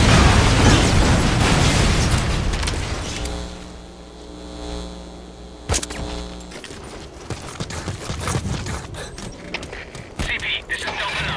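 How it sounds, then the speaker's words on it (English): An explosion in the Metal Gear Solid video game bursts out with a heavy boom, followed by a rumbling decay, sharp crackling pops and further impacts amid game sound and a speaking voice. "Heard an explosion."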